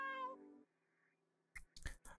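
A cat named Middens in the horror game Erskine gives one clear, drawn-out meow, followed after a pause by a few short, soft rustling sounds.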